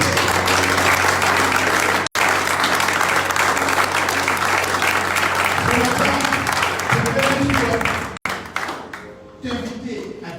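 A church congregation breaks into loud, sustained applause and cheering during a worship service, a dense crowd wash that cuts off briefly twice before trailing away.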